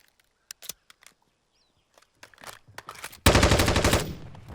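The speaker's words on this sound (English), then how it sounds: "That is the quickest Slackman sub reload I have ever seen." A Slackman submachine gun reloads in Call of Duty during a competitive esports match between Toronto Ultra and Seattle Surge: a few sharp mechanical clicks and clacks, then a loud, rapid burst of automatic gunfire near the end.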